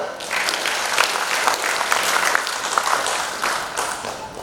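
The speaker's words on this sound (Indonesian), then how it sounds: "Tepuk tangan lagi dulu." An audience at an official inauguration ceremony in Bali breaks into steady, close applause that holds throughout and tapers slightly at the end.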